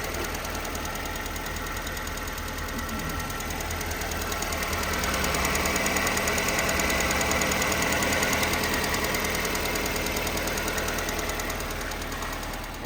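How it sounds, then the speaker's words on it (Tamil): A Maruti Suzuki Eeco seven-seater van running on CNG idles steadily, a continuous close engine drone with a slight knocking texture that swells a little in the middle and stays even throughout. "வண்டியோட இன்ஜின் நாய்ஸ் பார்த்துருப்பீங்க."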